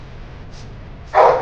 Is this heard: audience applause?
no